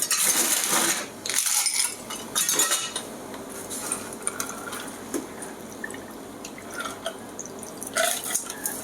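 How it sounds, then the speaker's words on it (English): Paloma cocktail poured over ice into a glass, with clinking ice cubes, trickling liquid and a few sharp glassy knocks, close and fairly loud. "So we'll add the cocktail over ice."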